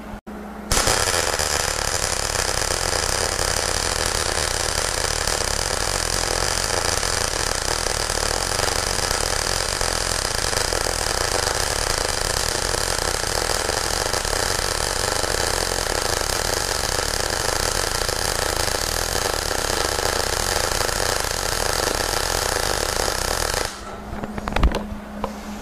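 MIG welding a bead straight down across steel plates, a steady unbroken crackling hiss that runs loud and close for over twenty seconds before stopping abruptly.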